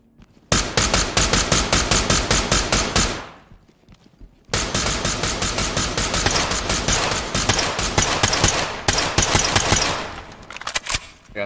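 Rapid automatic gunfire from a rifle in the tactical shooter Ready or Not, firing 7.62 rounds: two long, loud, sustained bursts with a short pause between, each shot cracking in a fast even rhythm before trailing off.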